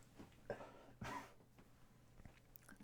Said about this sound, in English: I'm just going to clear my throat ever so slightly